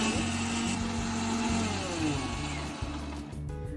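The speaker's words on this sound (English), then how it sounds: "blend this for 5 minutes" A kitchen blender whirs steadily while blending a ragi and banana smoothie with milk and water. The motor drone is loud and continuous, and its pitch shifts slightly near the end.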